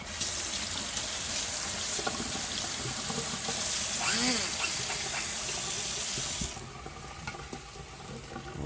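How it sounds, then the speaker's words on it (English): Tap water runs steadily into a kitchen sink while something is rinsed under it, giving a broad rushing hiss with brief splashy changes before the flow cuts and quieter clatter follows. "I'll rinse that off"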